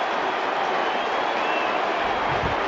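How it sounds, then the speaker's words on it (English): Port Adelaide football crowd roaring at the stadium during a 2018 match against Adelaide, a dense, loud, continuous wash of cheering and noise that holds steady throughout with no break. "have a listen to the Port Adelaide crowd"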